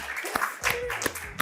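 Short burst of scattered hand clapping from a small studio audience at an Indonesian talk show, a few sharp claps over a low murmur.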